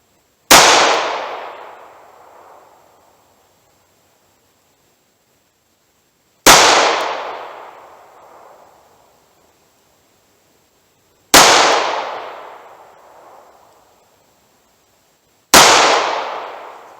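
.38 Special Inceptor ARX rounds fired in a ballistic test: four sharp, loud gunshots spaced several seconds apart, each with a ringing decay and silence between.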